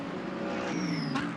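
A Porsche Cayman GT race car sweeps wide through a curve at the Sepang circuit, its engine note rising loud and close as it passes, with a brief sharp burst near the end.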